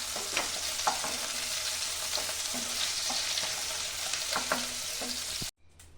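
Nigella seeds crackle and sizzle steadily in hot oil with small pops throughout, then the sound cuts off abruptly near the end.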